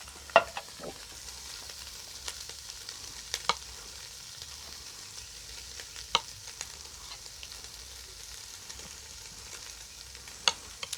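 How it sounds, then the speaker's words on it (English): Jalapeño Spam fries in a pan with a faint, steady sizzle and crackle, punctuated by a few sharp clicks and scrapes of stirring. "Oh, I can hear the sizzle."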